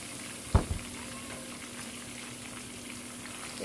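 Chicken pieces sizzle in a karahi with a steady, fairly soft hiss. A single sharp clatter comes near the start, and a faint hum runs underneath.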